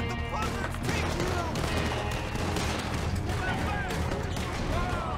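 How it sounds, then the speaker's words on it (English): A Gatling gun fires in Red Dead Redemption 2 during a shootout. The rapid, dense gunfire runs continuously and loudly throughout, with crashing impacts mixed in and voices shouting over it. "Watch out for that Gatling gun!"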